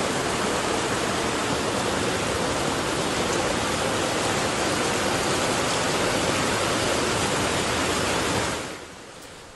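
Heavy rain floodwater rushes across a road in Mangaluru, a loud, steady, broadband roar like a torrent that holds constant and then drops slightly in the final second.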